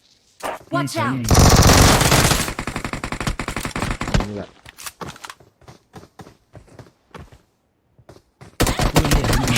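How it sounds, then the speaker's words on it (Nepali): Video game gunfire: a long, loud sustained burst of automatic fire, then a run of rapid single shots and scattered cracks, with another heavy burst at the end, close and dominant. "उता गोली हान्दै रहेछ"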